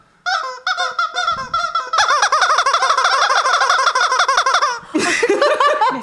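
A squeaky rubber toy chicken used as a game buzzer squawks loudly and close, a rapid series of honking squeaks followed by a long sustained squeal, then a brief burst of laughter-like noise.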